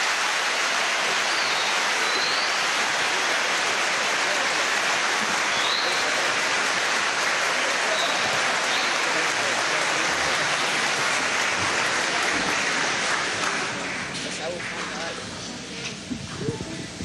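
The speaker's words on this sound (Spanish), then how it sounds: "Demos el más grande aplauso a nuestros jóvenes y niños que nos acompañan en el escenario esta tarde" Sustained audience applause for young musicians and children on a concert stage at a Venezuelan El Sistema Christmas concert, a dense broad wash of clapping that continues steadily, then thins slightly near the end.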